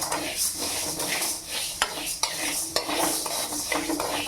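Moong dal is dry-roasted in a pan on a low flame, with a steady scraping stir, soft sizzle and occasional sharp clicks of a spatula against the pan, quiet and close.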